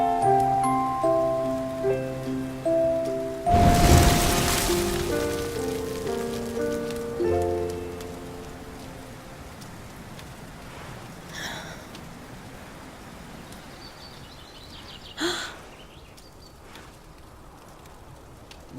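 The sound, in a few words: rain falling in video game Dragon Quest XI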